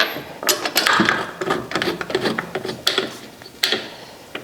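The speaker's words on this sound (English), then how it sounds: "I got all the lug nuts on. We're just gonna get them kind of hand tight." Lug nuts spun on by hand onto a car wheel during a DIY brake pad replacement, giving a series of close, light metallic ratcheting clicks and scrapes in irregular bursts with no talking.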